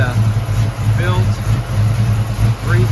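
A built 355 small-block with Eagle rotating assembly, Dart heads and intake, Holley carb, headers and Flowmaster-style muffler idles steadily in a 1954 Chevy 5-window short bed street rod truck, a low rumble running under close talk throughout.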